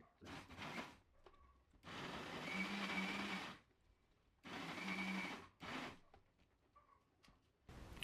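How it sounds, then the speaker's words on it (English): An ordinary home kitchen grinder blends a banana, apple and oats smoothie in several loud whirring bursts of a few seconds each, with short quiet pauses and clatter between them. "Right now it's going to take a longer time to blend because I put the oats first and the fruits next."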